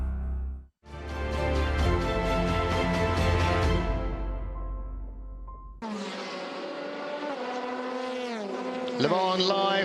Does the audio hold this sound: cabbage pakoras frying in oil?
no